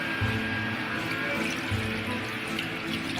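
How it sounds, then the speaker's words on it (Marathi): Water poured into a cooking pot in a home kitchen: a soft, steady splashing stream, fairly faint and continuous for a few seconds, with no talk. "थोडंसं पाणी घालायचं आहे"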